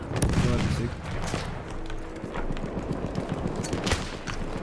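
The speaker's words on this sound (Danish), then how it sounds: "Og jeg bliver skudt af en eller anden." Gunfire from Battlefield gameplay crackles in rapid bursts and scattered single shots, some near and sharp, others distant, over a busy battlefield din with a player's voice talking faintly underneath.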